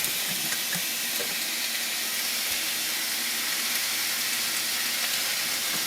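Beef mince sizzling in a hot pan with garlic for shepherd's pie, a steady, loud, close hiss and crackle that runs without a break, no voices.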